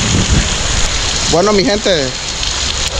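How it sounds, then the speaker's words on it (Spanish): Heavy storm rain pours down on a flooded street in Chinandega, Nicaragua, a dense, loud, continuous hiss throughout, with someone talking briefly over it in the middle. "Esta calle es un río. Está perra la llovera."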